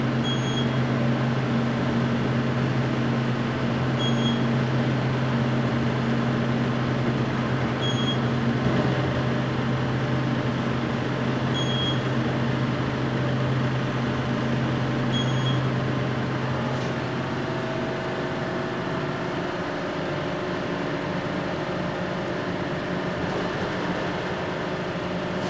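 Kone hydraulic elevator running in a Wells Fargo Plaza parking garage in Boca Raton, Florida: a steady low motor hum with a faint repeating high chime, constant throughout.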